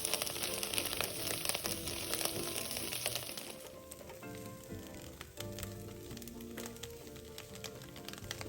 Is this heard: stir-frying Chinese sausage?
yes